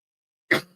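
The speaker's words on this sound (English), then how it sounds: "Cough got me." A single short, sharp cough bursts out after a moment of silence, close and abrupt, fading quickly.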